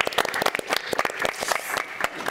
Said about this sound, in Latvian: Aplausi jums!